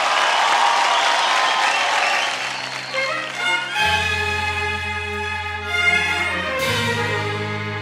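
Studio audience at an Indian Idol singing show applauds loudly and steadily, with continuous dense clapping, as a musical accompaniment swells in underneath.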